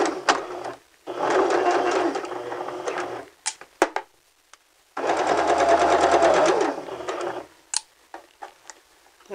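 A sewing machine runs two separate bursts of back stitching through fabric, each a few seconds of rapid mechanical whirring, with quiet handling clicks in between.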